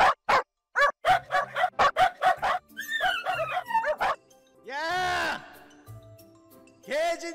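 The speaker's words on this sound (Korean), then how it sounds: "개짖는 소리 좀 안 나게 하라." A dog barks in a rapid run of sharp, high yips, then lets out drawn-out whining, howl-like cries with a faint jingle. The sounds are loud and close, with short gaps between bursts.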